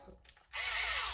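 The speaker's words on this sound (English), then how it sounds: "actually an electric screwdriver" Electric screwdriver used on toy blasters kicks in after a brief quiet stretch, giving a steady, high whirring buzz close up for the rest of the moment.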